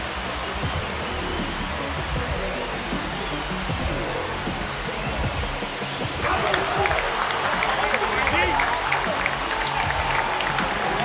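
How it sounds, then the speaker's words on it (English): Stadium crowd in MLB The Show 25 on PS5, Pirates at Marlins in Miami, roaring after a home run: a steady broad wash of cheering that swells louder around the midpoint and holds to the end. "That's exactly what this crowd wanted to see in this spot."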